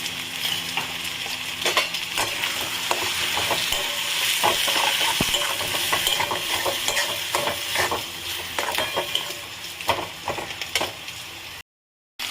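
Spice paste with a little turmeric and salt stirred into onions and potatoes frying in a pan, giving a steady loud sizzle with repeated scraping stirs throughout, then a brief silence at the very end.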